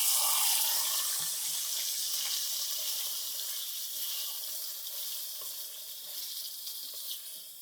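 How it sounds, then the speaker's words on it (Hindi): Half a kilo of chicken hits hot ghee in a karahi over a high flame and fries with a loud, hissing sizzle that fades slightly and stays steady, with no talking. "तेज आंच पे हम इसको फ्राई करेंगे।"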